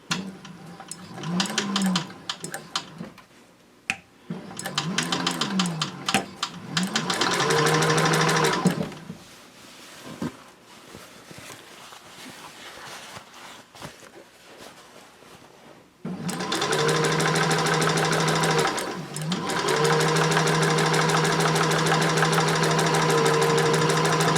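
Sewing machine stitching a seam on a tote bag made from upcycled jeans: loud mechanical whirring runs in several bursts with short pauses and back-stitch restarts, then a long continuous stretch, close and without talk.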